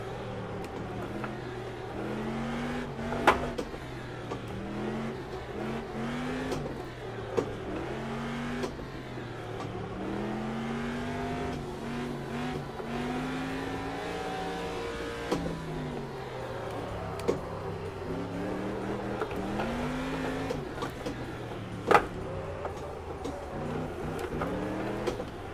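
A rally truck engine revs and bogs through sideways turns, pitch rising and falling in repeated surges as a wheel lifts, loud and close throughout, with a few sharp knocks from the rough course.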